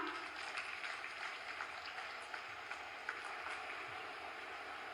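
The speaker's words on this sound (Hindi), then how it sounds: "एक बार जोरदार तालियां।" A faint, steady patter of audience clapping at a public government ceremony in Balrampur, Uttar Pradesh, heard from a distance as an even wash of applause without a clear start or finish.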